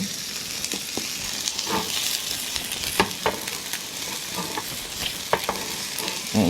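Washed shrimp tossed into a hot pan for a stir-fried shrimp ramen dish, giving a steady loud sizzle and crackle with scattered sharp pops and spatters, no voices.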